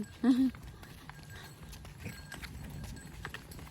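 A horse's hooves clip-clop in a steady rhythm on the road, moderately close, while people talk over it.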